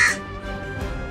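A single crow gives a short, harsh caw at the start, then fainter tonal calls follow over a quiet outdoor background.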